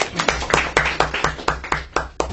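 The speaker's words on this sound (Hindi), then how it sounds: "सर के लिए एक बार तालियां बजाइए।" A small audience claps in a room, roughly ten distinct sharp claps at an even, brisk rhythm, close and fairly loud, with no talking over them.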